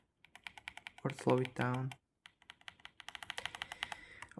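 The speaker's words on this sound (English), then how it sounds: "we can type on this keyboard, like test like how fast I type on this keyboard" Typing on a VGN N75 mechanical keyboard, a steady run of crisp close keystrokes with brief talk partway through before the clicking resumes at a quicker, even pace.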